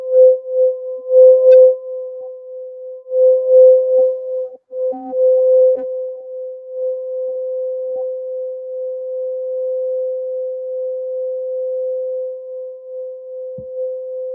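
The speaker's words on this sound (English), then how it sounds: "the sound frequency from the crystal bowl" A quartz crystal singing bowl rings with one pure, steady tone that holds for the whole stretch. Faint knocks and a little murmuring sit briefly over it near the start.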